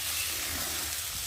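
Potatoes sautéing in hot oil in a pan give a steady, dense sizzle with a faint stirring scrape, close and continuous with no talk.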